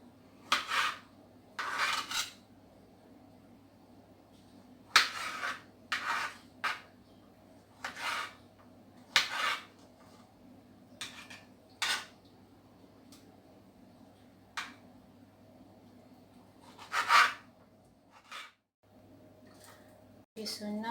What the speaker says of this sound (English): I will slice some tomatoes. I'll slice it into small pieces.